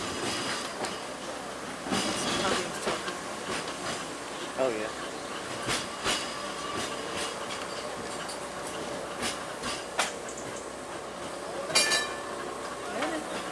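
A Seaton tram runs along its tracks, a steady rolling rumble with scattered clicks and faint wheel squeals, close by, while a voice speaks briefly over it.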